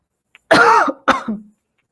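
Two harsh coughs from a person with a strained, hoarse voice, the first longer and rougher, the second shorter with a trailing throaty tail, close and loud in a quiet room.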